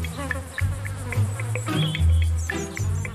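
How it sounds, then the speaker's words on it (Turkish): Flies buzzing close around cows, a loud, dense whining drone with overlapping insect wingbeats rising and falling, alone without voices. "Bu can sıkıcı sinekler ineklerin cildinde ve gözyaşlarında bulunan mineral tuzlara karşı"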